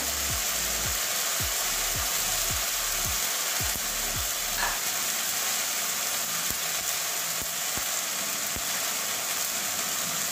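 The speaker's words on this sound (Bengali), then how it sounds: "এটা ভালো করে কাঁচা গন্ধ যাওয়া পর্যন্ত কষিয়ে নেব।" Spice paste with tomato and ground spices frying in a pan for Bengali dhokar dalna, a steady broad sizzle running throughout with a run of soft stirring scrapes in the first half.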